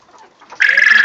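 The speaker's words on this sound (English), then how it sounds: "Look at that, that's a big old rooster." A big rooster gives a short, loud, close call that rises sharply and holds a strained tone for about half a second after a soft faint murmur.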